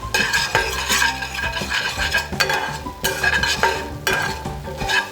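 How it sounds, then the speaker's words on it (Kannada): A semolina dish fries in a pan while a utensil stirs and scrapes it vigorously, making rhythmic metallic clatters and scrapes over a steady sizzle, close and loud, with no talking. "ಸ್ವಲ್ಪ ಹೊತ್ತು ಫ್ರೈ ಮಾಡ್ಕೋಬೇಕು"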